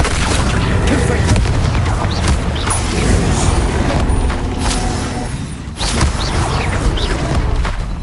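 Booming spell blasts from Bombarda and Confringo in Hogwarts Legacy crash out over a dense, continuous din of combat, with a voice speaking throughout and rumbling impacts layered close and loud.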